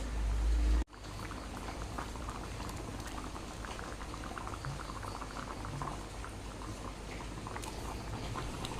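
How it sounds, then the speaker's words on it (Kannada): A pot of dried fish curry boiling on the stove, giving a steady, close, dense bubbling and popping that runs continuously after a brief opening thump. "ಪದಾರ್ಥ ಕುದೀತಾ ಇದೆ ಈಗ ನಾನು ಇದಕ್ಕೆ ಒಣ ಮೀನನ್ನು ಹಾಕ್ತೇನೆ"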